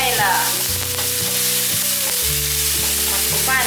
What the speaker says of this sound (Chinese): 大约拌炒一下